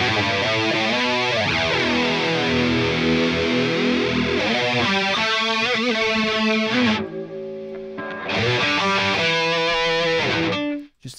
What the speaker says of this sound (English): Just adding a bit chorus to a lead part can really go a long way.